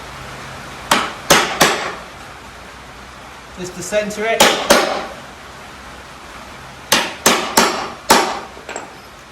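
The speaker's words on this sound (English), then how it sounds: "I will get my little stamper, I'll get to the nails, right in the middle of the nail, just a couple of taps" Sharp metallic hammer taps on a nail punch against nails in a pallet, in small bursts of two or three, close and loud, with a brief spoken remark in between.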